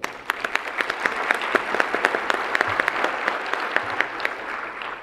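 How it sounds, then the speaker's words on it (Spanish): An audience applauds throughout the opening ceremony of the LACNIC 27 conference, with a steady wash of many hands clapping and individual claps standing out as sharp, distinct cracks. "vamos dar um aplauso"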